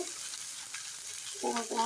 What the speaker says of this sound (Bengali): প্রথমে শুটকিটাকে আমি একটু ভেজে নেব